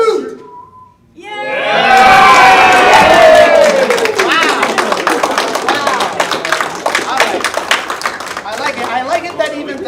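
An audience breaks into cheering and applause after a game of rock paper scissors, opening with a rising shout and continuing as sustained clapping, while voices talk over it.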